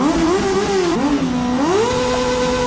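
Several Honda Click motorcycles rev their engines together at a riders' gathering, a loud, continuous buzzing drone that rises and falls in pitch as throttles open and close, close by and with no talking over it.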